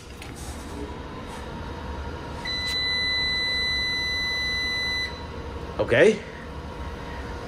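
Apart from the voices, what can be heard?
cooling fans of LV6548 solar inverter starting up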